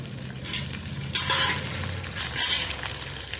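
Fenugreek leaves fry in a pan with a loud, close sizzle, broken by bursts of stirring and light scraping of a utensil against the metal.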